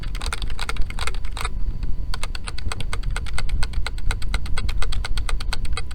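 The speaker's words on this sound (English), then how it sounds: "this keyboard is a membrane keyboard which feels really nice" Rapid typing on a Razer Cynosa Lite membrane keyboard, a close, steady stream of soft clicky keystrokes in quick irregular bursts, with a brief lull before a faster even run.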